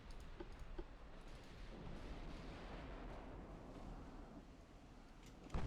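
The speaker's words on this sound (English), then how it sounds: "There's the salvo from the DD." A rumbling, booming burst of destroyer gunfire rolls on for several seconds in a naval battle in Ultimate Admiral Dreadnoughts, set in a historical Germany 1940 campaign, dense and continuous, with a sharp crack at the very end.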